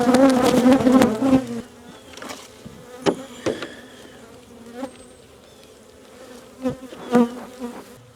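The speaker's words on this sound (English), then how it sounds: "Ooh, those bees are mad." Defensive honeybees buzz loudly and agitatedly close by during a fall hive inspection, a dense swarm at first, then individual bees zipping past in sharp, rising passes.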